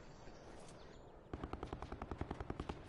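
Helicopter rotor in Call of Duty Blackout, a rhythmic thudding chop that starts abruptly partway through and continues as a steady, fairly close pulse over quieter game ambience.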